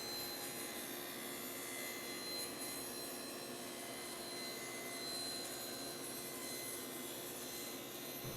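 Table saw with its blade tilted to 25 degrees ripping through wood for a small box, a steady loud whining roar that holds unbroken for the whole stretch with no talk.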